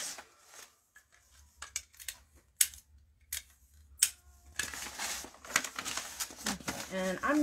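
Scissors snip and slide through tightly rolled wrapping paper while gifts are wrapped, with separate sharp cuts first, then a longer run of rustling paper and cutting, close by, as a person talks.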